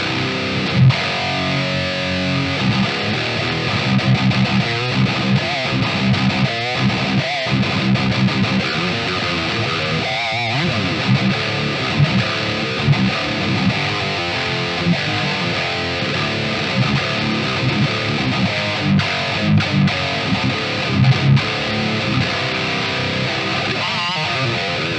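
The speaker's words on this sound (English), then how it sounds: "Revolt DSP's EVOampSuite is finally out, and yeah, sounds like this." Electric guitar through the Revolt DSP EVO amp sim delivers a high-gain metal tone: dense chugging palm-muted riffs and sustained distorted chords, loud and continuous with brief stops and no talking.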